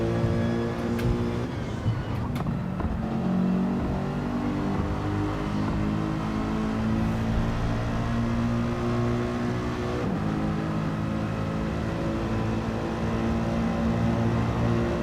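Race cars in a Pro Series league round at Tokyo Expressway accelerate and rev. A dense, steady engine drone with layered harmonic whine holds throughout, with no voices.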